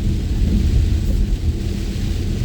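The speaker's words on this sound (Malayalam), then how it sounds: "നമുക്ക് നല്ല മഴ തുടങ്ങിയിട്ടുണ്ട്." A heavy rainstorm sets in over Auckland at night, with a deep rolling rumble of thunder beneath a loud, steady wash of rain.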